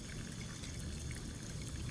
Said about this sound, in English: the Albertosaurus starts to drink the water